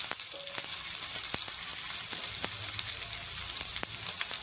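Chopped onions and green chillies fry in a pan with a continuous, even sizzle, punctuated by occasional light taps of a spatula, close and moderately quiet, with no one speaking.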